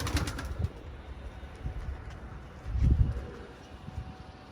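Pigeons outdoors after escaping a hawk attack: low, soft cooing and a brief flutter of wings at the start, then quieter rustling with another burst of low murmuring cooing near the middle, close and fairly faint.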